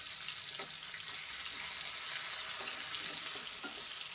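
Chopped onions frying in ghee and oil for chicken biryani, a constant bright hiss of sizzling with faint stirring ticks, steady and close, no voices.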